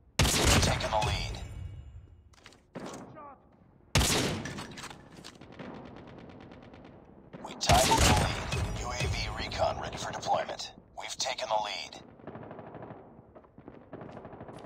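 Heavy gunfire in a Call of Duty match: sharp, loud sniper-rifle cracks at about 0, 4 and 8 seconds, followed by bursts of rapid shooting and battle clutter, with game voice callouts heard under the action.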